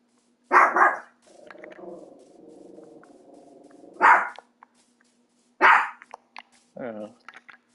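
Close, loud barks from an unhappy dog come in separate bursts, with a steady stretch of low background hum between them and a brief voice near the end.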